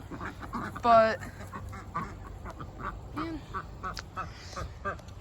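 Ducks on a backyard homestead let out a couple of nearby quacks, one loud call standing out, while a person talks casually over the scene.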